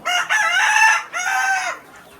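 A rooster in a flock of laying hens crows loudly nearby, two long strained bursts in quick succession that trail off into quiet.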